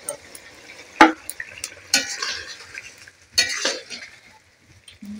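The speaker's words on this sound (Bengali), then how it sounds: "এই মশলাতে আমি দিয়ে দিলাম বেগুনগুলো" Eggplant pieces go into hot frying spices in a pan and get stirred, giving a few sharp metal scrapes and clinks of a spoon against the pan over a low sizzle, close and intermittent.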